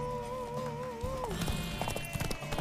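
A horse galloping in The Witcher 3, rapid rhythmic hoofbeats with rising clatter under a sustained musical tone, fairly close and steady.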